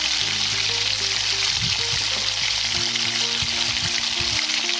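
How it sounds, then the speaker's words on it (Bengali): Potatoes frying in hot oil for chicken biryani, a steady loud sizzle throughout with occasional stirring clatter near the pan. "তো এবার আমি আলুগুলোকে ভেজে নেব।"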